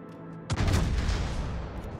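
A battleship's main guns fire in World of Warships, a single heavy salvo that cracks in sharply and trails into a long rumbling decay, with no talking.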